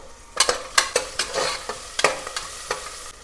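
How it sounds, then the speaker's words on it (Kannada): Spice masala frying in a pressure cooker for mutton chops, with repeated sharp scraping stirs against the metal at a steady irregular rhythm over a low continuous sizzle, close and clear with no talk. "ಇದನ್ನು ಇವಾಗ ಎಲ್ಲ ಕುಕ್ಕರ್ಗೆ ಹಾಕೊಂಡ್ಬಿಟ್ಟು ನೀಟಾಗಿ ಕೆಂಪಗಾಗೋವರೆಗೂ ಹುರ್ಕೋಬೇಕು"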